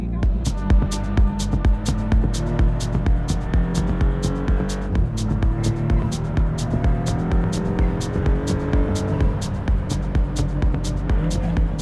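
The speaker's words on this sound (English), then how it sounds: "Turbo sounds squeaky." Inside a Maserati MC20 on the move, the turbo gives high, thin squeaking tones that rise and shift over a steady engine drone, with a regular ticking running alongside.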